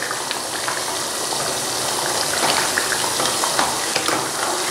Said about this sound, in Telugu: ఇలా మధ్య మధ్యలో మనం కలుపుతూ దీన్ని ఉడికించుకోవాలి.